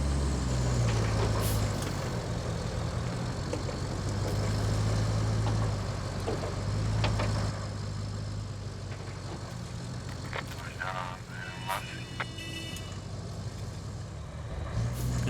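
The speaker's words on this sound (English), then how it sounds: "I think I'm gonna head to the new steel pipes facility with my new truck." Truck driving in the video game Roadcraft: a loud, steady engine drone with rumbling low tones and brief hissing bursts, continuous throughout the clip while a person talks over it.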